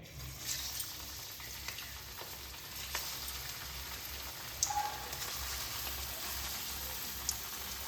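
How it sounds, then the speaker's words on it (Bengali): Jackfruit koftas deep-fry in hot oil with a steady, dense sizzle and bubbling crackle, close and continuous throughout with a few sharper pops. "তেল গরম হয়ে গেছে, কোপ্তাগুলোকে ভেজে নেব।"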